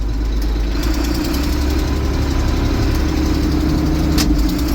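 The diesel engine of a 1982 John Deere 8640 tractor runs at a steady, loud, close rumble with a constant mechanical clatter and no break or change in pace.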